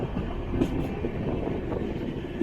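Tambaram Superfast Express rolling at around 100 km/h, a steady dense rumble of wheels on rails with faint rhythmic clatter, heard from inside the moving train.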